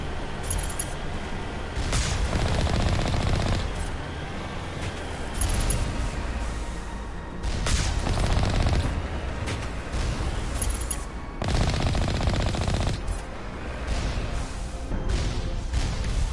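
Gunfire and blasts at turrets in the Mass Effect video game come in repeated loud bursts of booming shots and crashes, several seconds apart, over a steady background.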